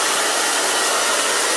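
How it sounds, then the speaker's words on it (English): A blow dryer drying fine, freshly cut short hair, a loud continuous airy roar held steadily throughout at close range. "then I'm going to take the blow dryer."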